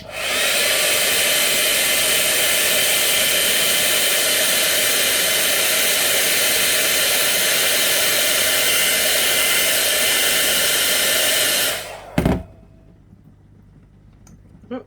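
A hair dryer blows steadily and loudly over a freshly decoupaged vase finished with napkin and vinyl lettering, running nonstop for about twelve seconds before clicking off, leaving only faint room noise.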